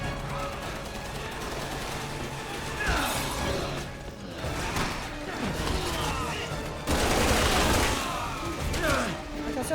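Gunfire in the shooter Resident Evil 6 crackles in rapid bursts and heavy volleys, with loud impacts and a voice talking over the action.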